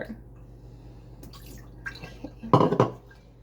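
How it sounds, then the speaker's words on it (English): Water is poured into pet food bowls at feeding time, giving a soft trickle and then a louder splashing burst near the end, close by, with a voice heard faintly. "Add water, water, water,"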